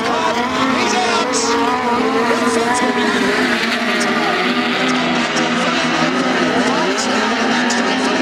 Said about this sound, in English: He threw us a donut and he turned the car off.